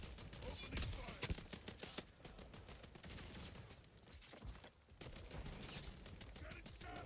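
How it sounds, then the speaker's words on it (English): Sustained gunfire in the video game Marathon during a shield-breaker objective fight, dense bursts of shots rolling continuously at moderate level with game noise and voices mixed in. "Getting shot at."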